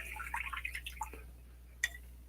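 Water flicked from a paintbrush onto a painting, a quick spatter of small, close drips and taps followed by a brief pause and one sharper splash, over a faint steady hum.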